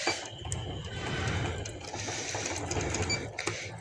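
A sewing machine stitching piping onto net fabric runs in one steady close whirr with rapid needle clatter, continuous for a few seconds, with faint talk underneath.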